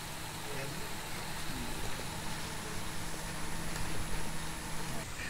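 An amphibious water pump runs steadily in a hydroponics system fed from boxes of water, a constant whirring hum with a watery hiss that holds even throughout.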